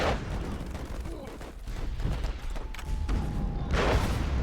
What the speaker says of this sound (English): their mortars are rocking and rolling pretty hardcore here